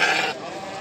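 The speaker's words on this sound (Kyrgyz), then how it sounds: "Тиш жар элек козу кошкор экен, достор." A young ram lamb at a livestock market bleats once, a short loud nasal cry that fades into crowd murmur and background noise.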